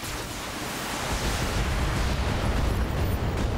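A rocket kill-shot explosion in the mech combat game Battletech: a loud, sustained roaring blast of broadband rumble that swells and holds steady for several seconds with no talk over it.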